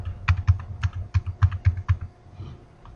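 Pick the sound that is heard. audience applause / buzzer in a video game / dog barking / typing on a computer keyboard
typing on a computer keyboard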